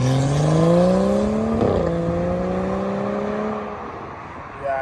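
BMW F30 with a catalyst downpipe, resonator delete and stock mufflers revving: a loud exhaust tone climbs, dips sharply at a shift, then climbs again before fading. A short rise comes at the end.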